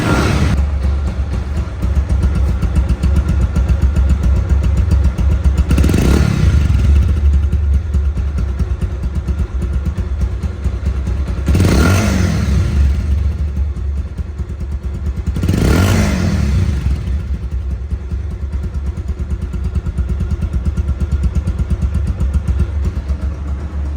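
A second-hand 2019 Bajaj Pulsar one-disc motorcycle engine runs steadily and loud throughout, with three brief swells of revving spaced a few seconds apart over the continuous idle.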